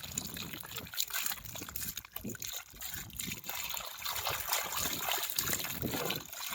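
Water from a Shakti 3 HP solar pump, set about 420 feet down and running for over two hours, gushes out in a steady, noisy rushing stream close by, with faint talk now and then.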